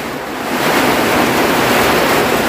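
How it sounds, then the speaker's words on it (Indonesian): Heavy rain driven by gusting wind during a night storm around a small hut makes a dense, steady roar that swells a little after the first half second and stays loud throughout. "sepertinya hujan ini seperti malam tadi teman, hujan angin lagi"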